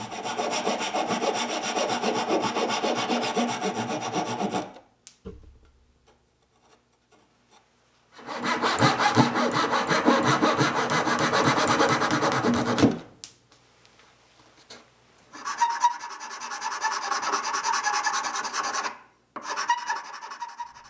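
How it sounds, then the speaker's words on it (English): Wooden lamp legs are sawn to a taper by hand, then finished with a file: close, rhythmic rasping strokes come in three bursts separated by short quiet pauses. "Then I'll saw each leg to give it a small taper and finish them with a file."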